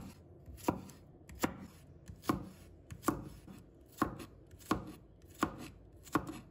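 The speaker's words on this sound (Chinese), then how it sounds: "再准备1把大蒜，把它切成片" A knife slices garlic cloves on a cutting board in steady, evenly spaced chops, about nine crisp close knocks with no voices.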